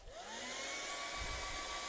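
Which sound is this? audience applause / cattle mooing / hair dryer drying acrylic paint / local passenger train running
hair dryer drying acrylic paint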